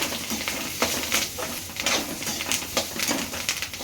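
Flattened rice (atukulu) tossed with turmeric in a hot pan, giving a steady dry sizzle and rustle with irregular scraping stir strokes, close and moderately loud, no talk.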